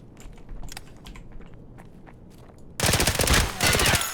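Pistol gunfire in a first-person shooter video game, a quiet stretch of small clicks and steps, then a sudden loud burst of rapid shots that stops briefly and resumes.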